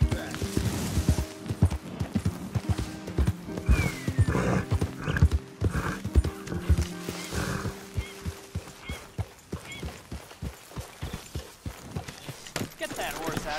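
Horse hooves clip-clopping in a steady rhythm with a whinny partway through, inside the Red Dead Redemption 2 video game, with talk and other game sounds mixed in.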